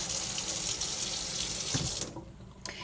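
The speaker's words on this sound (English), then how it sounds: "And now I'll just put some water in there, about halfway full." Water from a kitchen tap pours steadily into a mason jar for about two seconds, loud and close, then cuts off, leaving a faint drip.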